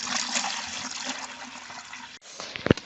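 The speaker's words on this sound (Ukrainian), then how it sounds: "Наливаємо водички" Water gushes steadily into a bucket with a hollow, rushing splash, then briefly cuts off before a few sloshing knocks, while preparing adhesive mix for plastering exterior walls.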